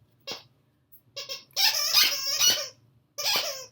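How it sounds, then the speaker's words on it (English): A dog chews a pig-shaped squeaky toy, producing short sharp squeaks at first, then a longer run of rapid repeated squeals, close and loud with no talking. "I hope you can hear me over all the squeaking."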